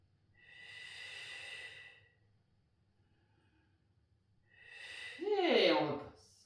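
Two slow, deep breaths during a Pilates exercise, each a long airy inhale and exhale close to the mic, the second ending in a voiced sigh, with quiet pauses between.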